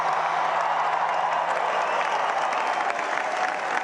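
An energized crowd at a Florida rally for the president-elect's victory speech applauds steadily, a dense, loud and continuous wash of clapping with scattered cheers and no speech.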